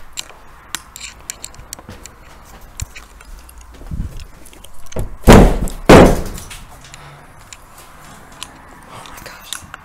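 A door being forced open in an abandoned house, two loud heavy thuds with a rattling scrape between them, close by, amid faint creaks and scattered clicks in a quiet room.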